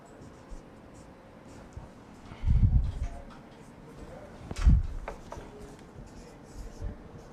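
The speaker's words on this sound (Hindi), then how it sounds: "मैं और लिखता हूँ" A lecturer writing on a board during a maths lecture on relations and functions: faint scratchy strokes, with two louder, denser bursts of writing over a quiet room.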